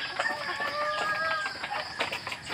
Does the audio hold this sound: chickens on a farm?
yes